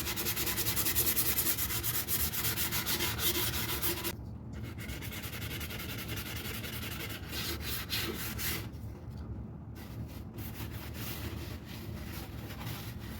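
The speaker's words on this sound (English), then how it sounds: "you get the sanding done" Steady, continuous scraping and rubbing of sandpaper over wood, close up and fairly loud, with brief pauses and strokes shifting in texture.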